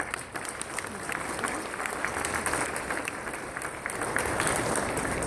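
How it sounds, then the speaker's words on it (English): A crowd applauds dense and steady for a Louisiana State Police colonel at a casino grand opening in Lake Charles, Louisiana, a continuous wash of many hands that swells slightly toward the end. "how about another big round of applause?"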